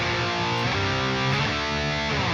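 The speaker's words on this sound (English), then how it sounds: "I want to use the flat 6, flat 7, 1 chord progression, which sounds like this." A heavily distorted electric guitar in a melodic death metal style strums a flat six, flat seven, one chord progression: thick, buzzing sustained chords shifting roughly every second, loud and saturated, playing alone without voices.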